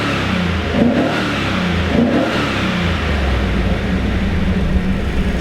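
A 1994 Firebird Trans Am engine revs steadily and loudly close by, holding a strong, continuous roar with no stumbling or breaks.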